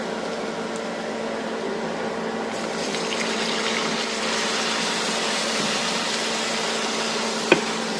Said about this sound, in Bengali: এখন সামান্য একটু পানি দেব।